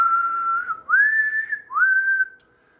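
A person whistles into a radio transmitter microphone for an output power test on an SBE SB2-LA linear amplifier, three sustained close whistled tones, each rising slightly at its start, then falling quiet.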